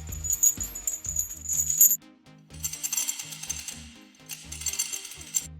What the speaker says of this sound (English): the director has told us that at a specific moment he needs chains to sound